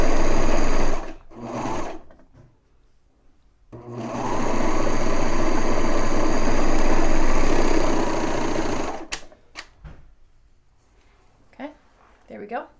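A serger overlocks a seam through knit fabric, its fast steady whirring running loud and close for several seconds in two bursts, then stopping, leaving soft fabric handling noises afterward.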